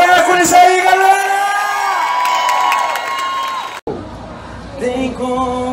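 A concert crowd cheers and whoops loudly around a stage performance, a dense roar with shouting voices. It cuts off abruptly, after which softer crowd noise and talk continue.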